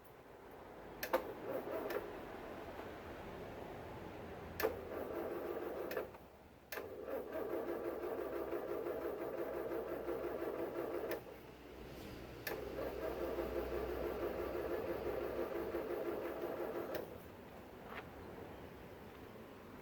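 An old Land Rover engine, left standing for twenty years behind a factory, is cranked over in three long, faint bursts of steady ticking, whirring churn separated by short pauses and sharp clicks.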